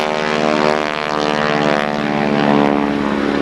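A Stearman biplane's radial piston engine drones loudly and steadily at an air show, a constant close, rich propeller roar with no talk.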